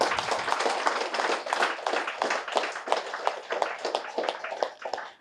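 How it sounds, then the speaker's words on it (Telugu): A crowd claps, dense and sustained across the whole stretch, fairly loud and close, with a few faint voices mixed in. "ఒకసారి గట్టిగా చప్పట్లు కొడదాం"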